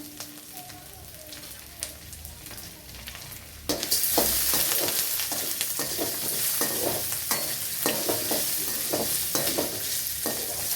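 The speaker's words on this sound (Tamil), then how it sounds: "உளுந்து நல்லா கொஞ்சம் ப்ரௌன் ஆகட்டுங்க. நல்லா வறுத்துக்கலாம்." Urad dal, garlic, ginger, dried red chillies and tamarind fry in hot oil in a pan, with a dense, steady sizzle starting a few seconds in and frequent stirring scrapes on top.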